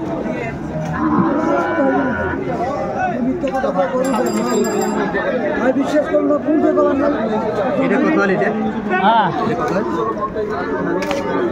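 Sahiwal bull calves lowing at a busy cattle market, moos rising repeatedly over constant crowd chatter and nearby talking voices.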